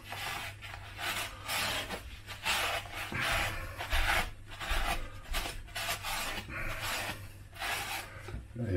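A paper towel rubs and wipes over painted 1/35 scale model bricks on a diorama, producing close, repeated rasping strokes in an uneven rhythm, with no talking.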